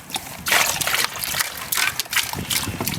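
Water sloshes and swirls in a shallow gold pan, rising and falling in several swooshing waves close by.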